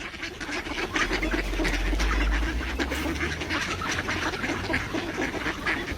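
Ducks quack repeatedly at a pond where birds are being fed, the calls overlapping with a steady low outdoor rumble, moderately loud and close, with no voices.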